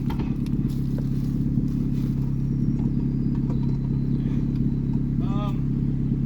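Engine of a rusty Mazda Protege, newly dug out and started, running as the car is driven: a steady, loud low drone throughout, with a brief squeal near the end.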